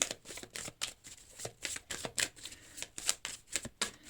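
Tarot cards shuffled and drawn by hand, a quick run of crisp, papery riffles and flicks close up, steady and alone with no talking.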